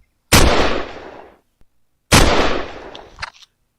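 Two loud gunshots fired into the air outdoors, each a sharp blast with a long rolling decay, about two seconds apart, followed by a faint trailing rattle.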